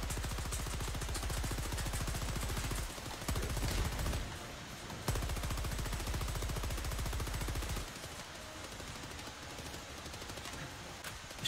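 Sustained automatic gunfire in the video game Helldivers 2, long loud rapid bursts with brief pauses between them, close and dominant throughout, no speech.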